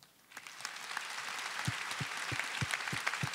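A congregation at a Catholic church service applauds in a faint, distant wash of clapping, with soft rhythmic thumps pulsing beneath it.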